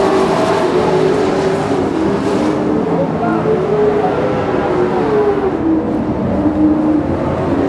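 Stock race cars lapping an oval short track near the end of a race, a line of engines roaring and droning past down the backstretch, with crowd noise and some indistinct speech underneath.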